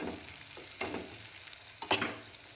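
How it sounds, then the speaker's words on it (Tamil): Chopped onion and chili fry in a pan, giving a soft, quiet sizzle with a few louder scraping stirs of a spoon. "வெங்காயமும் மிளகாயும் வணங்கிருச்சு."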